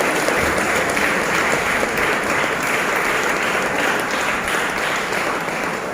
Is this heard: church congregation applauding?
yes